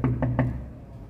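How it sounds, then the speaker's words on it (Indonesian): Knocking on an apartment door in a Hong Kong residential building, three firm, evenly spaced knocks close by, with each blow ringing briefly before fading into room hum. "Aku ketok pintunya."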